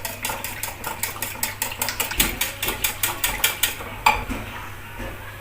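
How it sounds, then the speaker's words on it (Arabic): A whisk beats eggs with milk in a bowl for an Egyptian cheese pastry, making rapid rhythmic clinking and tapping against the bowl about three strokes per second, close and steady, with no talk. "هقلبها كويس لحد البيض ما يتجانس مع اللبن، ما يبقاش فيه خيوط خالص."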